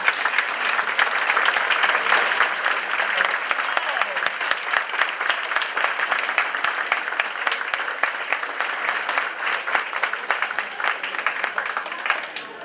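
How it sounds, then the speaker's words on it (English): A live awards event audience claps steadily for standing nominees, a dense, even wash of applause that holds at constant loudness for the whole stretch. "please stand up so we can give you a round of applause and celebrate you for a moment"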